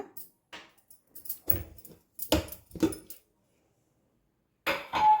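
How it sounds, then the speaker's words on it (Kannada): A pressure cooker lid being opened after cooking uppittu: scattered metallic clinks and clanks of steel pot and lid, several sharp knocks in quick succession, a pause, then a final louder clatter. "ನೋಡಿ, ಇದು ಕುಕ್ಕರ್ ಆರಿದೆ, ಓಪನ್ ಮಾಡ್ಕೊಳ್ಳೋಣ."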